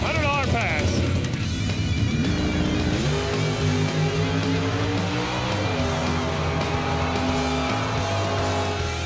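A 1959 Chevrolet Corvette engine revs and climbs in pitch as it accelerates, a loud steady roar with a rising note, running under continuous excited talk.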